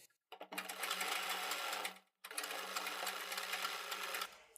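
A sewing machine stitches down a folded strip of fabric at a round neckline, in two loud, steady close runs split by a short stop.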